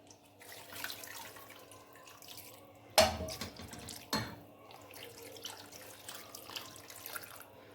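Water poured from a vessel over spread-out beef pieces for Eid beef paya, a steady close splashing pour with a couple of sharper splashes midway, no talking.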